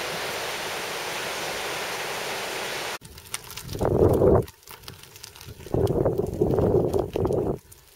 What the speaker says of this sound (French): La belle rivière d'Axat,